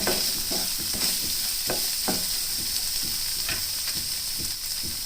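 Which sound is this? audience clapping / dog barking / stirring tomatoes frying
stirring tomatoes frying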